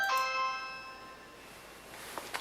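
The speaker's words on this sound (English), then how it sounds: "my doorbell's making noise." A household doorbell chimes once with a bright ding that rings out and slowly fades, fairly quiet, followed by a couple of faint clicks near the end and no talking.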